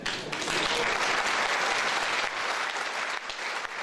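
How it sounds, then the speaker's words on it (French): A crowd applauds steadily at a mayoral election, dense clapping from many hands throughout with no talking. "sous les applaudissements du public"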